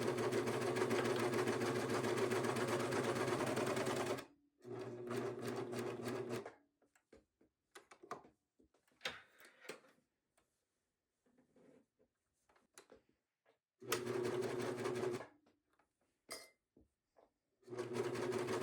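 A home sewing machine stitching a quilted scrap-fabric bag runs in loud, steady buzzing bursts, stopping for pauses filled with soft handling noises before starting again.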